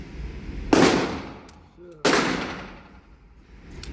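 Two sharp, loud shots from a Dreyse Model 1907 pistol fired in quick succession by bump firing, each with a long echoing decay and faint mechanical clicks between them.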